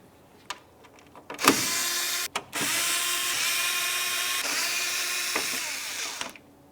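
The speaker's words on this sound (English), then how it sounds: "We're going to continue on by removing the 4 mounting screws that you can see up along the top of the grille." A power driver removes the grille mounting screws along the top of a 2011-2018 Volkswagen Jetta's front grille, giving a steady, close motor whine for several seconds after a few short clicks.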